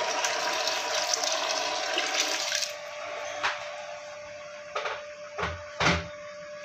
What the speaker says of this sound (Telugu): ఇప్పుడు దీంట్లోనే కొంచెం వాటర్ యాడ్ చేసుకున్నాం ఇది కొంచెము హాట్ వాటర్